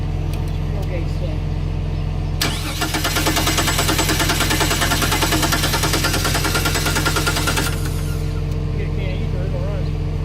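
A 1999 Chrysler Sebring, left sitting for three years, cranks on a cold start: a loud, rapid pulsing starter-and-engine churn lasting about five seconds, surrounded by a steady low mechanical hum before and after.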